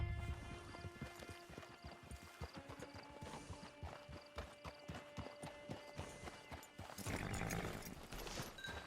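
Horse hooves clip-clop steadily in the video game Red Dead Redemption 2 Online, a near, rhythmic run of hoof strikes with a brief whinny-like swell near the end and no talk over it.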